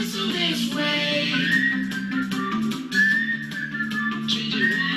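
Whistling in a preschool action song: thin, clear whistled notes rise and glide over a backing track of music, moderately loud and close.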